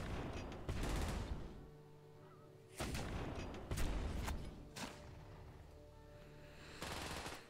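Cannons firing in the strategy game Kingdoms Reborn during an assault on a wall, heavy booming blasts arriving in irregular clusters, loud and close, each rumbling briefly before the next volley.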